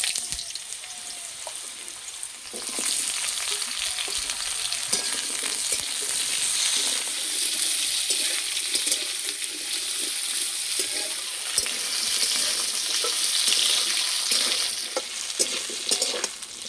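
Potatoes fry in mustard oil in a wok, a steady, close sizzle with scraping and stirring sounds, beginning quietly and then holding a constant crackling hiss without any talking.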